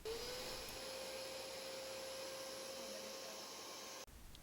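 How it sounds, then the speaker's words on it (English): A Hoover PowerDash Go Pet carpet cleaner runs with a steady, loud whirring motor drone and a faint rising whine, then cuts off abruptly near the end. "Once you have the vacuum put together, you can plug it in and press the start button."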